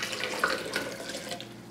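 Spring water pours steadily into a container holding cooked quinoa, dates and a pinch of sea salt for quinoa milk, making a soft, continuous close splashing trickle.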